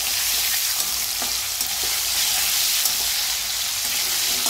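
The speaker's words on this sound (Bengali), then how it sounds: "ফোড়নটা দিয়ে আমি টমেটোগুলো এর মধ্যে দিয়ে দিলাম।" Tomatoes tipped into hot spice tempering fry with a loud, continuous sizzle and hiss, with faint stirring ticks scattered through it and no voices.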